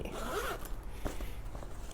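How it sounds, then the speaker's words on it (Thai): A zipper on an Under Armour bag is run closed in a couple of quick rasping pulls, close and clear, with a short pause between strokes and no talking. "แล้วก็รูดซิป เก็บ"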